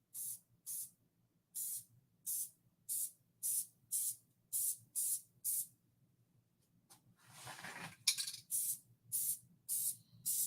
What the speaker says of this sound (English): So I've got this Elmer's spray glue, spray adhesive, and it's a strong adhesive.